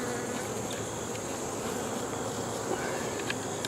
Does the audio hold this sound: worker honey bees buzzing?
yes